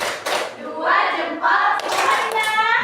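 A group performs the tepuk salut clapping routine at a teachers' positive-culture session, a few quick claps and thumps alongside people speaking and chanting over them.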